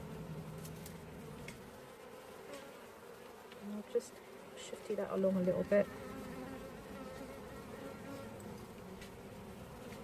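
Honeybees hum in an opened hive, a soft continuous buzz with a few louder passes near the middle, under a person speaking quietly.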